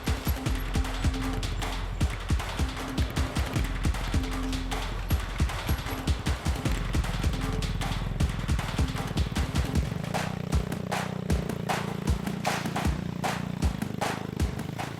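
A motorcycle engine sputters and chugs through forest terrain with an uneven, knocking rhythm, close and steady at first, then changing to a lower, rougher tone partway through.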